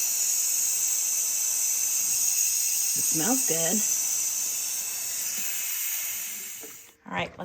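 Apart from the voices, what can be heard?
steam releasing from pressure cooker valve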